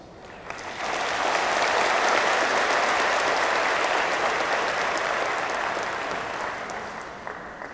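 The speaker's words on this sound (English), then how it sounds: "So graduates, why don't we give them a round of applause?" A graduation ceremony audience at RMIT Vietnam breaks into applause that quickly swells to a loud, sustained roar of clapping, then slowly tapers toward the end.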